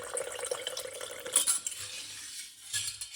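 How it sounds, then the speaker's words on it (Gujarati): A spoon stirs sugar into water for lemonade, clinking and scraping against the container in quick, light, close strokes with a brief louder clatter midway. "ખાંડ નાખીને લીંબુ શરબત બનાવવા માટે પાણી આમાં ઓગાળ્યું છે"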